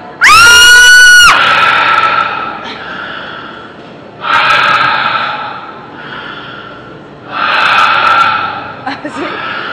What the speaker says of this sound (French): Oui, c'est ça, faut crier. On crie.